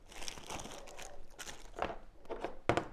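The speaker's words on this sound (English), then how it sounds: "We take out the components from the plastic bag." Plastic pipe fitting components rustle and crinkle as they come out of a plastic bag, faint irregular crackling bursts close by with a sharper crunch near the end.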